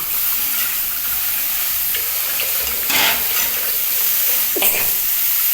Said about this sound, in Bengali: এর মধ্যে আমি আদা পেস্টটাও দিয়ে দিচ্ছি আদাটা কষতে হবে